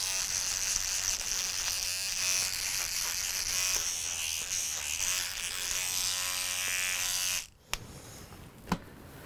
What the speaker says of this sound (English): I like using an electric toothbrush, and that way I know that I've gotten it completely cleaned.